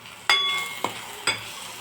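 Masala of red chili powder and coriander powder stirred in oil in a pan, with three distinct scraping strokes of a spoon over a quiet sizzle.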